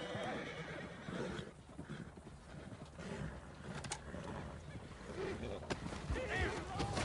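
Horse whinnying and hooves clopping in a video game, faint and steady under background ambience and noise.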